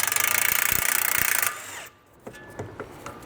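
An impact or power tool spins the top nut off a rear control arm on a 2005–2012 Porsche 911 (997), a loud continuous buzzing whir for about a second and a half that cuts off, followed by a few faint metallic clicks.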